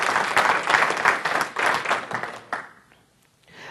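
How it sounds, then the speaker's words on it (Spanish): A church congregation at a Sunday service claps in loud, dense bursts for a few seconds, then the applause tapers off abruptly into near silence before faint room sound returns. "¿Cuántos le dan un aplauso al Señor?"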